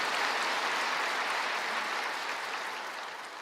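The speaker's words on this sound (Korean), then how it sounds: "뜨거운 감사의 박수 한번 주시겠습니다" A church congregation applauds the choir after a Wednesday worship service, with loud, dense clapping from a large crowd that fades slightly toward the end.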